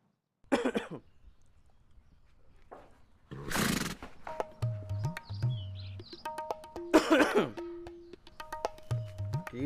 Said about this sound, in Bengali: অযথা খুসখুস কাশি দিয়া দৃষ্টি আকর্ষণের চেষ্টার কারণ কি